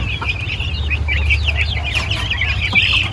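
Heritage and native chickens with chicks in a backyard coop, a busy overlapping chorus of soft clucks and high peeping chirps close by over a steady low hum, no voices.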